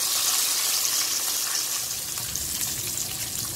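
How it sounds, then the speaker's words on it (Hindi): Chicken frying in hot ghee for a crispy burger, with a steady loud hiss of splattering and bubbling oil, close and continuous. "ये देखिए छिंटे ऊपर तक आ रहे हैं और घी के अंदर भी बबल्स बन रहे हैं"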